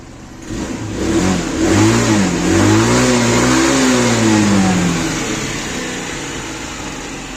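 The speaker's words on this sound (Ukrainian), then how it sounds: "Ну, все, він чуть прогрівся, отак працює на холостих." A warmed-up SkyBike Quest 34 150cc scooter engine runs close by, rising in a brief rev before settling into a steady, humming idle that stays even to the end, no talking.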